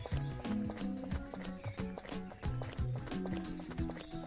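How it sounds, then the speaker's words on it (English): Rapid, rhythmic hoofbeats of a galloping horse in a video game, with clip-clop thuds under a steady musical backdrop, close and continuous. "That sounds like a horse running, not a person."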